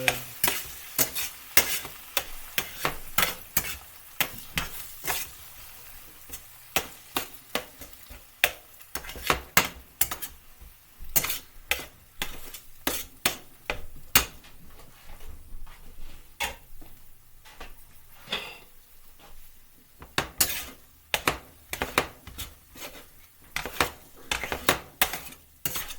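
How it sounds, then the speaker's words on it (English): Eggs stirred and sizzling in a pan for egg fried rice, a steady frying hiss under a long run of sharp, rapid utensil scrapes and clinks against the pan, close and fairly loud throughout. "Then you add the eggs. Stir them up good."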